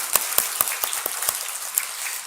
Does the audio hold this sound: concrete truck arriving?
no